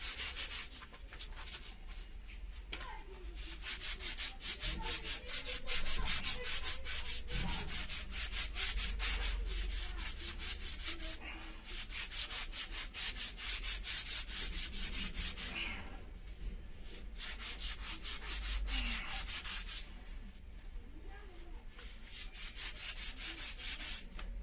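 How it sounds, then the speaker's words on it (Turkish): Steady back-and-forth sanding scrapes on a bicycle seat tube, continuous rubbing with brief pauses and shifts in pace, close by and fairly loud. "Şimdi koltuk borumuzu zımpara işlemini yapıyoruz."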